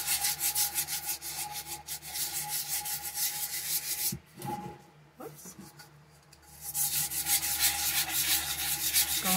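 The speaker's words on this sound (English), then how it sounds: "I like doing a wet sanding" Steady back-and-forth wet sanding of a tumbler cup, close and continuous, pausing briefly midway before resuming.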